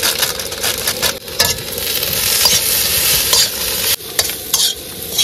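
Potatoes fry in a wok while a utensil scrapes and stirs them, a steady loud sizzle broken by repeated metallic clinks and scrapes, close up with no talking.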